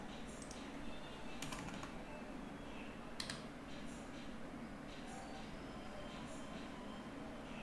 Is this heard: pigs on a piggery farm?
no